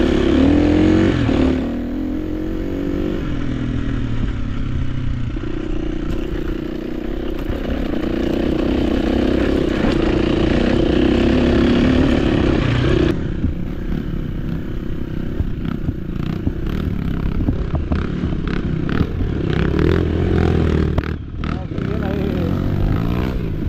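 Motorcycle engines rumble and rev continuously at close range on a muddy, rocky dirt trail, with gear shifts and throttle surges, mixed with clattering over rough ground throughout.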